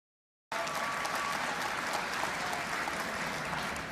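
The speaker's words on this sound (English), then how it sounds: "everyone's standing up cheering as she gets corrected on the pronoun stuff" A crowd at a political party convention stands, claps and cheers, a thick continuous roar of applause that starts abruptly after a moment of silence and stays loud and steady.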